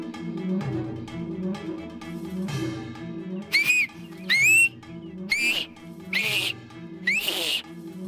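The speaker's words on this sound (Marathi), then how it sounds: "अहो या शिट्ट्या वाजतायत म्हणजे कोणीतरी आलाय ना." Shrill whistles blown in a TV serial scene, five sharp rising blasts in a row over a steady background music bed, each loud and close.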